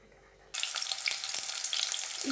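An onion hits hot oil to sauté for curry leaf chutney. After half a second of near silence, a sudden loud sizzle erupts and holds steady and close, with a few soft stirring taps and no speech.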